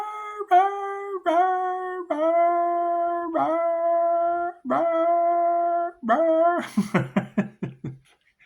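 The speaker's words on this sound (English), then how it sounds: "I try to listen for those dogs across the street." Dogs across the street howling in long drawn-out wails, several rising and falling in turn, then a burst of quick yips at the end, clear and prominent with no talk.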